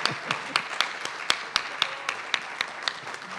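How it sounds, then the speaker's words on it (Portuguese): A small audience claps for an accordion performance, with individual hand claps ringing out sharply in a loose, sparse rhythm over several seconds, close and fairly quiet. "Uma salva de palmas, né?"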